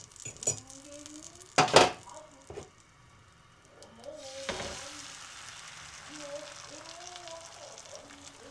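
Food frying in a pan at home, a soft crackle and sizzle with a few sharper pops early on, fairly quiet and close, with faint background sounds and no one talking.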